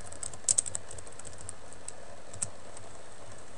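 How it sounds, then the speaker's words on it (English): Typing on a computer keyboard: a quick cluster of clicky keystrokes near the start, then a few sparse isolated key taps over a steady background hiss, close and moderately loud, with no voices. "So go to Google and type that in."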